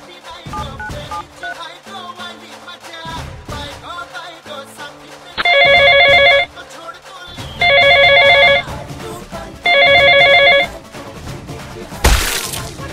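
A telephone rings in loud bursts, three distinct rings about a second each, over busy background sound with voices, followed by a short crashing noise at the end.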